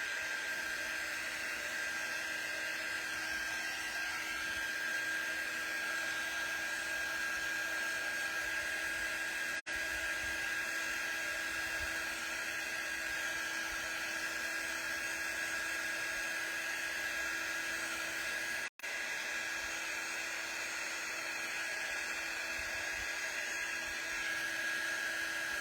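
A hair dryer runs continuously at close range, drying a layered transfer on a vintage truck model, a steady loud whir with a high whine that cuts out briefly twice before resuming.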